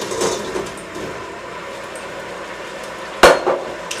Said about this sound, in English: We're going to add the cauliflower to the pot.